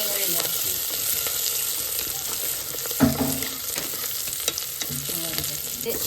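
Onions frying in a pan along with ginger, garlic, green chillies and curry leaves for an iftar meal, a steady broadband sizzle with stirring and a louder clatter near the middle.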